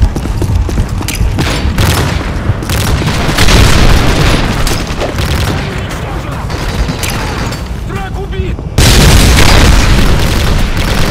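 Loud, booming vehicle explosions and bursts in a Call of Duty: Modern Warfare 3 multiplayer match crash continuously, dense and close, with a voice talking over the chaotic action.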